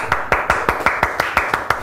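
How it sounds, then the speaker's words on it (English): Steady, evenly spaced clapping, about five claps a second, loud and close over a murmuring crowd at a Justin Currie gig at The Pony Club. "give them a round of applause"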